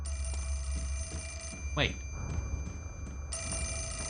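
A telephone rings in Fatal Frame: Mask of the Lunar Eclipse, a warbling trilled bell rising once over low ambient drone, with a person speaking briefly over it.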